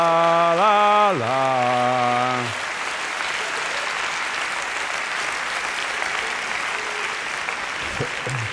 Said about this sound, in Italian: Io questo applauso lo ricevo in tutta Italia